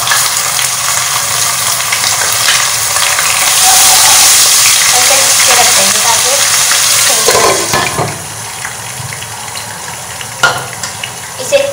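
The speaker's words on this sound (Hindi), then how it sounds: "अब हम लहसुन अदरक का पेस्ट डाल देंगे" Ginger garlic paste hits hot oil with onions in a pot for beef biryani, giving a loud, dense sizzle that swells and then eases, with stirring scrapes and a few clinks near the end.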